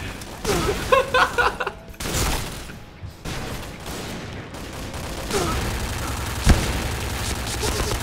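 Gunfire in the online shooter Point Blank, using a gold-skinned gun: quick bursts of rapid shots and loud single cracks over game sounds, with a player talking now and then.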